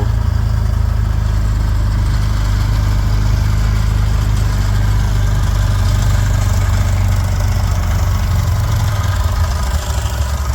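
An International Harvester 560 tractor engine runs steadily at a low, heavy idle, loud and close, with a constant rumble throughout while making third-crop hay in Wisconsin.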